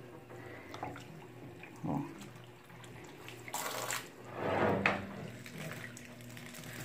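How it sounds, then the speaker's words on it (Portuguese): Water running and splashing down a door during a bedroom cleaning, with intermittent bursts of pouring and trickling, close by, and a brief spoken interjection over it. "Aí a água já vai descendo certinho"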